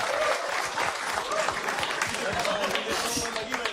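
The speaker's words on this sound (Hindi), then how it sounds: "एक बार यार 3 लड़कों के लिए ताली बजाएंगे अपन यार" A crowd applauds with steady, lively clapping throughout, close and fairly loud.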